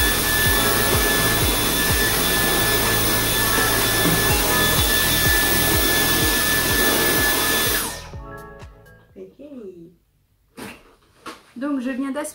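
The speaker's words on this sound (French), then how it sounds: "je viens d'aspirer un petit peu" Dyson vacuum cleaner running on a rug indoors: a loud, steady whine with rhythmic pulsing from the head moving back and forth, then cutting off abruptly, followed by someone talking.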